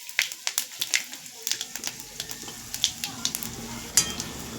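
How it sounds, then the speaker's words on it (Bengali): Panch phoron spices and a bay leaf crackle and spit in hot oil in a karahi, giving sharp, rapid pops over a soft sizzle. "দেখো এখানে হচ্ছে কড়াইয়ে তেল গরম হয়ে গেছে"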